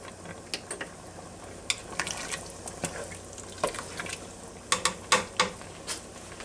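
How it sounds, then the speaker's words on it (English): A pot of chicken and egg noodles simmers with scattered small pops, bubbles and light clicks over a steady low hiss, close and moderately quiet, with no talking. "now it's come to a real good simmer now"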